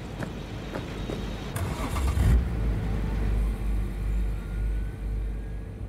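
A car in Cyberpunk 2077 starts moving and drives off, its engine rising to a steady low rumble after a few scattered clicks and knocks, loud and close.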